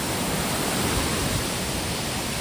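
Roaring rush of the Bheli waterfall, a steady broadband wash of heavy falling water with strong flow, loud and close without pause.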